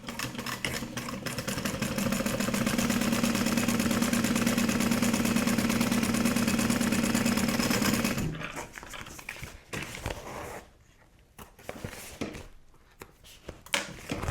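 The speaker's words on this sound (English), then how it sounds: "Let's head to the sewing machine." Sewing machine stitching a zipper onto a sport duffel bag with a 1/4 inch seam allowance, a loud steady motor whir running for about eight seconds before stopping, followed by quieter handling noises.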